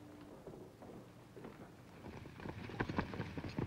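Unbroken wild horses moving on open range, hooves clip-clopping in a quiet, irregular patter that grows busier and louder toward the end.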